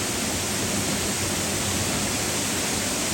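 Steady broadband rush of a waterfall on Miyajima island, Hiroshima, heard close and loud as a constant, unbroken roar with no voices over it.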